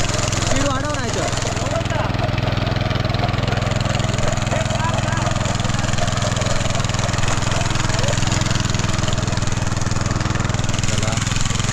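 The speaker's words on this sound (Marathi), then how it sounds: "पहिल्यांदा फिरवून घेऊ ट्रॅक्टर." Tractor engine running steadily in a Konkan rice field during sowing, a loud continuous low chugging drone that never lets up, with brief voices over it early on.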